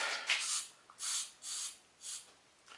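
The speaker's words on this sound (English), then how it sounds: "So spray some more red paint." Red spray paint hisses out of an aerosol can in four or five short, even bursts separated by brief pauses, close and fairly loud, with no voices.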